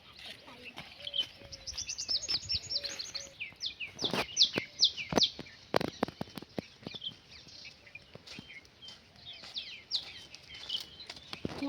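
Birds call in a jungle with repeated high, sharp chirps and trills at a middle distance. Many crisp snaps and crackles cut through them, and faint voices may be mixed in.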